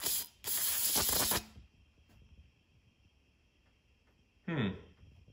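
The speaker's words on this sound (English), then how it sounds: "Let's get a little spray." Two bursts of hissing spray from a spray bottle onto rusty metal, the first long and steady, the second short, with quiet scraping and rustling between them.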